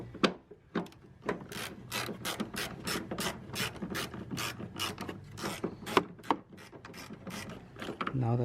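A ratchet wrench loosens a 13 mm bolt on a GMC Step Side truck during fender and door work, with rapid repeated clicking strokes in steady bursts, close and clear.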